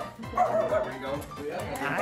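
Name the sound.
small puppy barking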